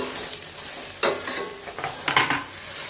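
Onions sizzle and fry in a pan for a spicy chicken fry, with a steady crackling hiss broken by a few sharp stirring scrapes and bursts of louder sizzle.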